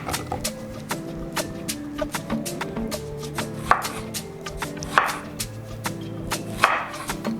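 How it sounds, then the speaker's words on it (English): A knife chops fresh strawberries on a cutting board in quick, steady close taps, with a few louder knocks as the blade strikes the board and background music playing underneath. "I'm just gonna cut up the strawberries first"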